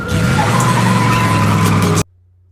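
A car peels off with a loud, sustained engine roar and tire squeal in a TV drama scene, steady for about two seconds before cutting abruptly to near silence.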